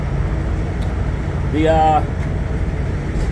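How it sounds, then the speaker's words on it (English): Steady low rumble of idling engines and distant traffic in a truck stop parking lot, with a brief rising tonal whine near the middle standing out over the constant drone. "Sorry for background noise. I am at a truck stop."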